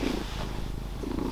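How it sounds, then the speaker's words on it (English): A house cat purrs right up close, a low, steady, rumbling vibration that pulses with its breathing and has no other sound over it. "If you guys ever hear little purrs or meows in the background of my voiceovers"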